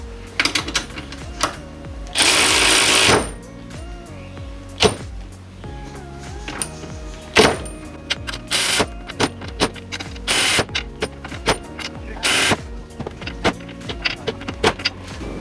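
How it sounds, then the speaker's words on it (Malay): Europa HILT EBL12RW 1/2-inch brushless ratchet tightening a bolt, short whirring bursts broken by clicks, clinks and handling clatter, loud and close. "sekarang ni kita try ketatkan balik menggunakan ratchet ni"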